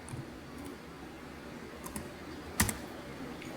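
Light typing on a computer keyboard enters a command at a Windows command prompt, with faint, soft key clicks at a quiet level and one sharper, louder keystroke near the end.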